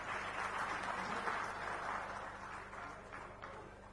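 A crowd at a public political dialogue event in Bemetara, India, claps for a senior Janata Party leader, a continuous wash of applause that gradually fades over a few seconds with a low hum beneath.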